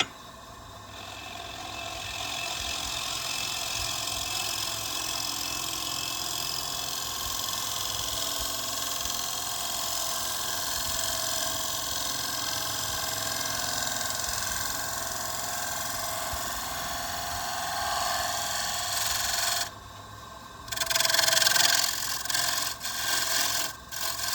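A wooden bowl spins on a lathe while a tool takes fine, light shavings, producing a steady hissing scrape over the motor hum that cuts out briefly near the end before some louder scraping.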